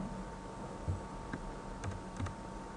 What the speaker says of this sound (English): I will start typing the options